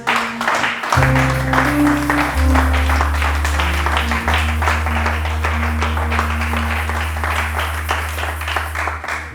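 Church congregation applauding the Lord, steady sustained clapping from many people over a low droning organ or keyboard chord, continuing throughout.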